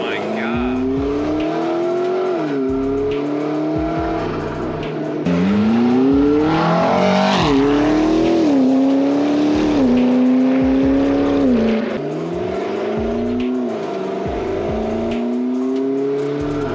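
A McLaren MP4-12C sports car engine, tuned to 750 wheel horsepower, revs hard toward 9,000 rpm and climbs in pitch through repeated gear changes, loud and close, with brief dips between each rising pull.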